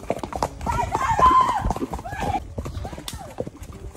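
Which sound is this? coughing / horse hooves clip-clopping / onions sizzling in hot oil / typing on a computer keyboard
horse hooves clip-clopping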